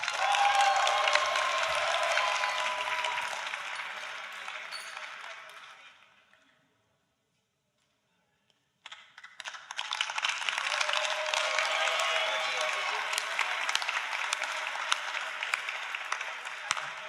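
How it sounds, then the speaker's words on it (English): Audience at a campus graduation ceremony applauding in a long, dense wash of clapping that fades out, falls silent for a couple of seconds, then swells back up and continues steadily. "let's just give everybody a great round of applause."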